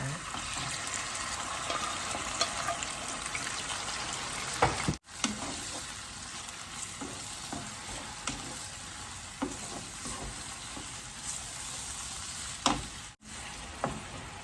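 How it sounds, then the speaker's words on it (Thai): Fresh squid stir-fried in a wok with roasted chili paste, a constant loud sizzle broken by repeated scraping stirs of a spatula, and a couple of sharp clacks against the pan. "พริกเผา ผัดเรียบร้อยก็ใส่ปลาหมึกลงไปผัดเลยนะเพื่อน"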